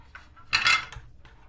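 Grated garlic stirred into yogurt in a bowl, with a short burst of utensil scraping against the dish near the middle between quieter clinks.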